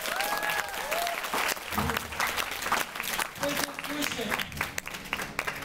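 Lively crowd applause for salsa dancers after their final dance, a loud sustained clatter of clapping with a few cheers and voices mixed in throughout.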